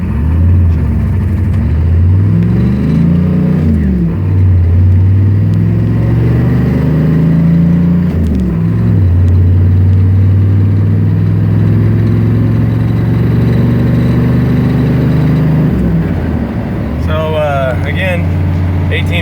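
A 1993 GMC K3500 pickup with a 6.5-liter turbo diesel accelerating from a standstill to 60 mph, its loud engine drone climbing in pitch, dropping at each gear change and climbing again, heard from inside the cab.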